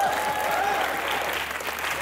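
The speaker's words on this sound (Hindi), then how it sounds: "जोरदार तालियां।" Crowd at a comedy show opening an orchestra-themed evening breaks into steady applause, continuous hand clapping at moderate loudness with a faint murmur beneath.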